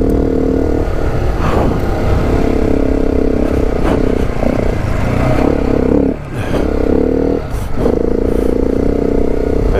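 KTM 690 motorcycle ridden hard across Australian desert dunes, its engine loud and close, held at a steady roar with throttle blips and short revving dips, wind noise over it.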